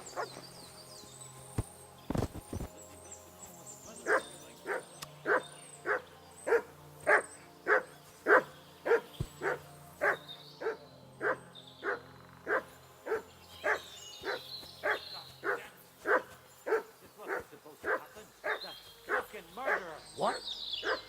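A dog in Kingdom Come Deliverance 2 barks on command in a long steady run of evenly spaced, loud barks, about one per second, with a few whines and game sounds around them.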